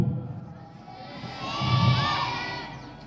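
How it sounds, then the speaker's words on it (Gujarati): Children cheering and shouting at a school funfair, a crowd of young voices rising into a loud swell of excitement midway before easing off. "જોરદાર તાળીઓ"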